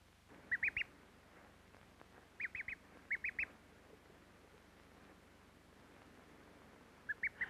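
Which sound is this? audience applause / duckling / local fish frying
duckling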